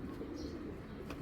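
Soft, continuous cooing from pigeons in a seller's collection, a low steady murmur with a brief higher chirp toward the end.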